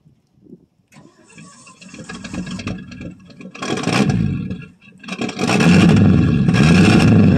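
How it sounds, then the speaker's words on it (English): A 1965 Ford Fairlane 500 with a 289 V8, cold after three years, cranks over loudly in uneven bursts, then catches and settles into a rough, rumbling idle close by. "so you're going to have to crank it over and give it a little throttle."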